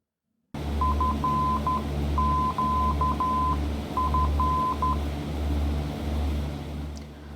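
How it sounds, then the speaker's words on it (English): Morse code identifier for the Falcon VORTAC (FQF) from a G1000 nav radio, a clean steady tone keying dots and dashes in three repeated groups over a loud low cockpit hum, with no talking. "here is the Morse ID"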